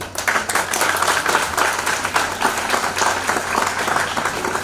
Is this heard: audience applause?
yes